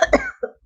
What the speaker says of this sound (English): I think some part of that thing is making me cough